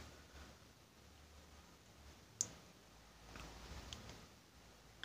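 A computer mouse gives a single sharp click close by in a quiet room, followed by faint soft handling noise.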